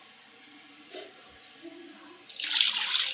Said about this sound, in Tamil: இப்போது இதுக்கு தேவையான அளவு தண்ணி விட்டுக்கலாம்.